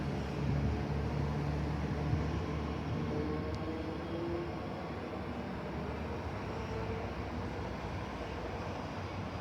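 A train on the Ellenbrook Line pulls away near Daglish with a broad, continuous rumble that holds steady and slowly fades, heard alone without voices.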